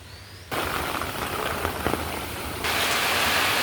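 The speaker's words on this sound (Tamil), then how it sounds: "ஈச்சமடையில் வந்து அதிக மழை பெய்து கொண்டிருக்கிறது" Heavy rain pours down in Eechamadai, Jaffna, during flooding: a dense, loud hiss of falling water that starts abruptly and grows heavier toward the end, with no voices.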